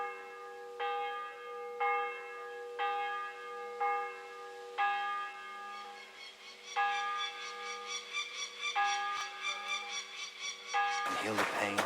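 A church bell tolls in the video game Kingdom Come: Deliverance 2, ringing out in a slow, even series of resonant strikes about a second apart, later blurred by denser clanging and scraping game sounds near the end.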